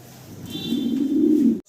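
Fancy pigeons at a farm give a single low, throaty coo that swells and holds close by for over a second before cutting off abruptly.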